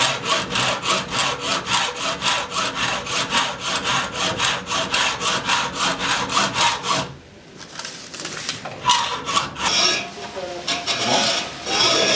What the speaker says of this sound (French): maintenant je vais scier